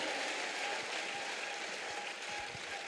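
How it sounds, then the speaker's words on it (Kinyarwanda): A church congregation applauds during a sermon, steady continuous clapping heard from a distance, fairly faint and even throughout. "A round of applause to God."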